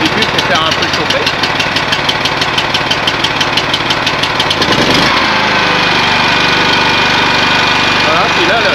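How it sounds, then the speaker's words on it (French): A small pull-started petrol engine on a farm hybrid setup runs loud and close, with rapid rhythmic knocking pulses that shift to a smoother, steadier idle partway as it warms up, the choke removed. "le moteur commence à être chaud, alors j'ai enlevé le starter"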